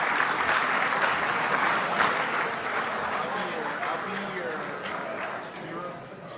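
Audience applause for young racers at the 2023 IFMAR World Championships awards ceremony, a dense, steady wash of clapping from a large crowd that tapers slightly toward the end.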